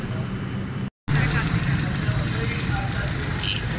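Honda City 2000 car engine idling steadily after starting, a continuous low rumble with a brief cut of silence near the start; the car has a head pressure and water fault.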